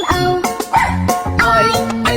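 A cartoon farm dog barks a few times in a children's nursery-rhyme song, short bright yelps set over an upbeat musical backing.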